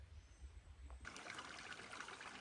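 Curry Creek flowing well on a long-distance trail: a steady stream trickles and burbles nearby, starting faint and becoming a fuller continuous wash of water.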